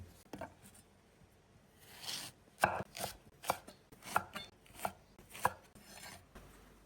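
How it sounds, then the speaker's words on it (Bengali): A knife cuts small local eggplants lengthwise on a board, giving a quiet series of about eight crisp, evenly spaced chops close by with no voices. "বেগুনগুলো কাটতেছি দেখেন একটু লম্বা করে"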